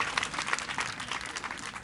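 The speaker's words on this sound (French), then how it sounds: "Applaudissez un peu." Audience members at a gathering clap together in a quick, busy patter that holds steady throughout, moderately loud and close.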